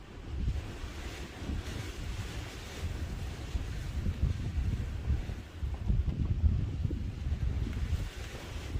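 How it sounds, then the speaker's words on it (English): Strong wind roars steadily across a high mountain summit, buffeting the microphone with dense low rumble and gusty surges throughout, with no voices. "Yeah, just a little bit windy."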